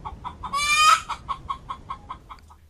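A hen clucks in a quick series of short, close, rhythmic calls, opening with one louder drawn-out squawk.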